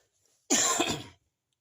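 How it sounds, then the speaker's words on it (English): A single harsh cough breaks out close to the microphone inside a historic hall, sharp and brief against near silence. "Sorry about my coughing."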